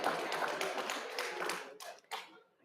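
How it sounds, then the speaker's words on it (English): An audience applauds students at a campus event with dense, close clapping that thins into a few scattered claps before stopping. "another round of applause for these wonderful students"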